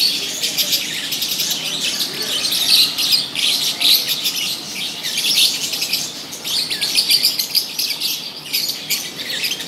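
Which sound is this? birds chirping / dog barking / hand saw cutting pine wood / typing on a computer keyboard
birds chirping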